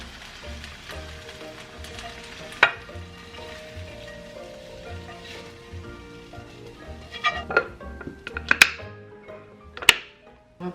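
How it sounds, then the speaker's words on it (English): Kimchi stir-frying with udon in a pan, a soft steady sizzle with scattered clinks and scrapes of a utensil, growing busier and louder toward the end. "all you have to do is basically slice up kimchi and then stir fry it, add your udon and maybe some protein"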